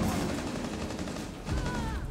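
Rainbow Six Siege gunfire in a close-quarters match: a brief burst of rapid crackling shots over a dense, noisy backdrop, loud and near.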